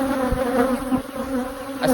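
Bees swarm around an opened hive during an inspection, a dense steady buzz that stays loud and close throughout, with individual bees zipping past the ear.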